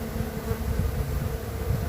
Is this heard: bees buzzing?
yes